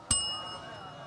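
A quiz answer bell at a forum for a mayoral election gives one sharp metallic ding that rings on and fades over about a second, with faint crowd murmur behind it.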